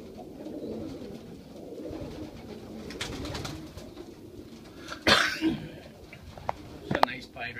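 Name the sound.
pigeons cooing in a loft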